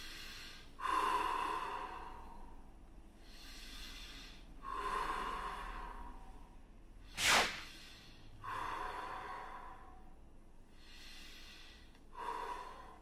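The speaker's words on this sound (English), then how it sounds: "You can combine these with that pursed-lip breathing" Slow pursed-lip breathing exercise for COVID recovery: four long, airy exhales through tightened lips at steady intervals, close and moderately loud, with a single sharp sniffing inhale between them and no talking.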